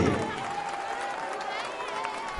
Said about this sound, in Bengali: সমবেত জনতা হাততালি দিয়ে স্বাগত জানায়